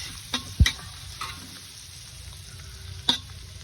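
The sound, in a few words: rice being stirred and fried in a pan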